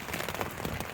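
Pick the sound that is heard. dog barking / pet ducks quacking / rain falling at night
rain falling at night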